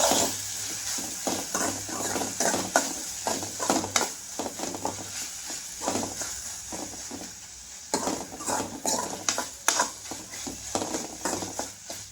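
Tomatoes and chicken liver fry in a pan with a steady close sizzle. Frequent stirring scrapes and clinks against the pan run all the way through.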